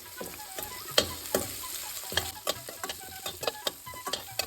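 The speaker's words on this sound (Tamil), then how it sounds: "வெங்காயம் பொன்னிறமாக வர வரைக்கும் வதக்கிக்கலாம் வெங்காயம் வதக்கும் போது கொஞ்சம் உப்பு சேர்த்து வதக்கிக்கலாம்" Onions sauté with salt in a pan for chow chow poriyal, crackling and sizzling close up while a spatula scrapes and taps the pan in frequent irregular strokes.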